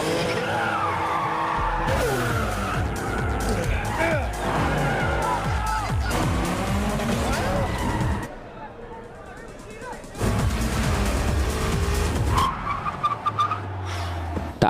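Race cars roar through a film racing scene, engines revving loudly with tire squeals and skids, a short quieter stretch midway, and a narrator talking over the action.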